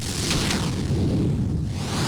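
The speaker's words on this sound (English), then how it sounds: "The mage attack sounds like this" Jad's mage attack in Old School RuneScape: a loud, dense fiery rumble with a broad noisy roar and deep low-end boom sustained for about two seconds, no talking.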